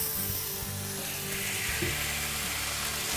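Street-style noodles sizzle and fry in a hot wok as chilli sauce and vinegar go in, a loud continuous close hiss with stirring scrapes.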